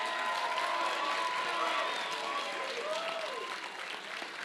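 An audience at a startup pitch night applauds the eight competing teams, dense sustained clapping mixed with crowd cheers and whoops that holds loud throughout before easing slightly at the end.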